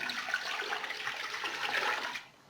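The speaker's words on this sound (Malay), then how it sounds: "Masukkan air," Water is poured into a pressure cooker holding beef gearbox bones, a steady close splashing rush lasting about two seconds before cutting off.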